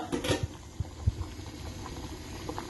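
Soft bubbling of tomatoes boiling in water in a pan, with gentle irregular pops and a low simmering hiss.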